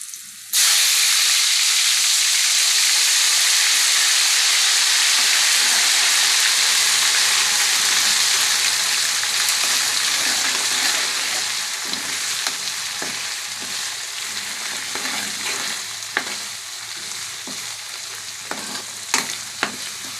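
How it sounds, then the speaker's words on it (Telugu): Ginger garlic paste hits hot oil in a pan with a loud, steady sizzle for a bocche fish pickle, easing slightly over time with a few scraping stirs near the end. "మంచిగా పచ్చివాసన పోయే వరకు వేయించుకుంటే అది బాగుంటుంది"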